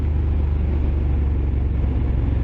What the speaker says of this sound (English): Big thumping, growling engine.